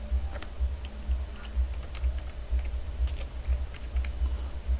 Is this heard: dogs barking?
no